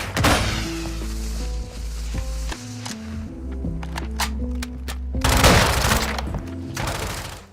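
Gunfire in the Modern Warfare 2 video game, a series of sharp shots and thuds from a DMR, sniper rifle or shotgun loadout, with bursts over a backing music bed and a dense cluster of impacts partway through.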